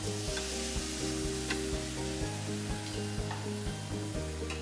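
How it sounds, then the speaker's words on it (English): Steaks sizzle loudly on a preheated multi-grill, a dense continuous crackle and hiss, with a low electrical hum and a few soft knocks underneath. "You'll hear that sizzle. It's nice and preheated."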